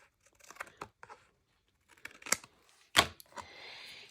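Paper is trimmed for a card-making project in a few scattered bursts of snipping, rustling and crinkling, with one sharper cut near the end. The sounds are close and separated by silent gaps, with no voice.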